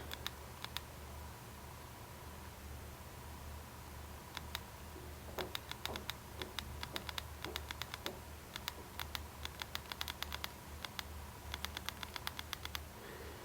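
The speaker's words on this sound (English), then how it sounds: "We'll type a quick sentence here." Taps on the landscape touchscreen keyboard of a BlackBerry Storm 2 (9520) come in a quick, irregular run of light clicks, close and alone over a low steady hum.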